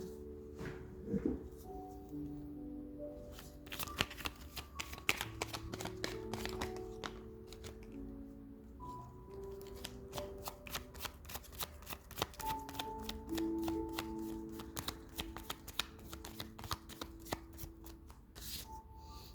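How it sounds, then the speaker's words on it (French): Tarot cards shuffled by hand for a reading, a continuous dense riffle of papery flicks and slaps lasting nearly twenty seconds, close and crisp. "On va faire sauter les cartes."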